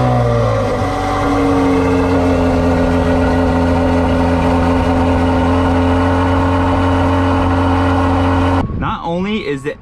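A Lamborghini Aventador SVJ Roadster with a 6.5-liter naturally aspirated V12 idles loudly and close after startup, a deep steady drone with rich harmonics. The pitch shifts once early on, and near the end the engine cuts out abruptly while a voice begins speaking.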